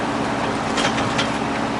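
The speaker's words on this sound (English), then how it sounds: "Sorry for the noise, but it is a 1971 Volkswagen bus I'm cruising in." A 1971 Volkswagen bus driving along a road on the way to San Marcos, California, giving off a loud, steady broadband engine and road roar from inside the cabin.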